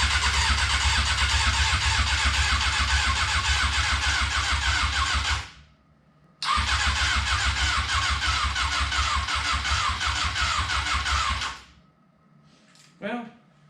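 An old engine runs on fresh gas after starting, holding a steady loud rumble that cuts out, restarts at once and runs again before stopping, with a faint brief sound in the quiet after.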